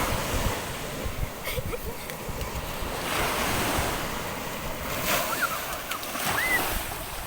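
Rough sea waves roll onto a beach in Bicol, a continuous roaring surf with swells of louder crashes, mixed with gusty wind buffeting the microphone.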